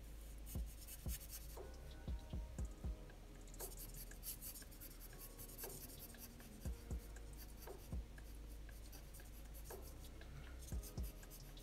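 Pen colouring in black on paper while drawing a husky, a faint continuous scratching with soft taps scattered throughout, heard close over a low steady hum, no talk.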